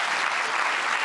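Audience applause for the panelists at a FIFDH 2024 festival discussion on Russian society and the war in Ukraine, a dense, steady wash of many hands clapping close by with no voices over it.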